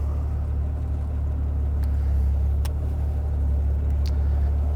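A 1960s Jaguar E-Type driving along, its engine a steady, loud low rumble that holds throughout with no clear revving, plus a few faint brief clicks on top.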